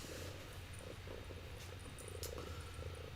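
A cat purrs loudly and close by, a continuous low rumbling drone that keeps going with no pauses and no voices over it.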